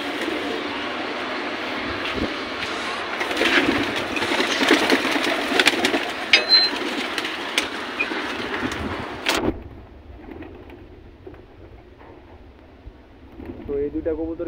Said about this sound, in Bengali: এই দুইটা কবুতর কিন্তু পানি খাওয়ার জন্য পাগল হয়ে গেছে